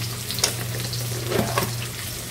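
Ginger garlic paste fries in hot oil, giving a steady close crackling sizzle with a few brief scraping sounds and no voices.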